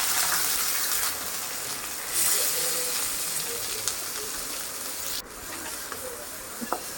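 Mustard seeds, cumin, finely chopped onion, curry leaves and green chilli fry in hot oil, giving a steady, fairly soft sizzling hiss with a few sharp pops and crackles near the end.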